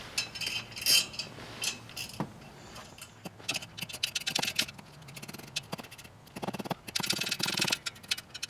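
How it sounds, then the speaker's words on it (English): A 7/16 ratcheting wrench loosens a clamp on a 2005 Ford F250 6.0L Powerstroke diesel during turbo removal, giving bursts of rapid ratchet clicking in irregular runs, close and fairly quiet, with brief pauses between strokes. "7/16 ratcheting wrench in here."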